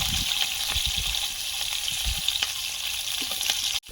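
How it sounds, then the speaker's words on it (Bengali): Five-spice, slit green chillies and potato frying in hot oil, a steady close sizzle with scattered pops and crackles running continuously, and no talking. "পাঁচফোড়ন দিয়ে দেবো তেলে চেরা কাঁচা লঙ্কা আলু"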